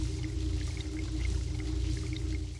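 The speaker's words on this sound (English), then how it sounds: "it does sound like some water's running" Steady running water in the video game Nanashi no Game, a continuous pouring sound with a low hum underneath, alone and fairly close throughout.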